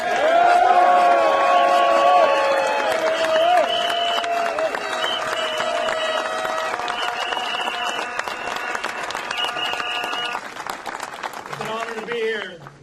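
A crowd of union longshore workers applauds a visiting brother from Tacoma at an ILA strike gathering, loud sustained clapping and cheering filling the space, with voices calling out over it and fading near the end.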